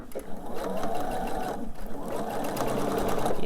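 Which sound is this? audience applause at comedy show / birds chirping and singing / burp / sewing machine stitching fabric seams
sewing machine stitching fabric seams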